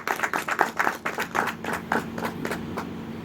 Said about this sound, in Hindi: आपके लिए एक बार जोरदार ताली।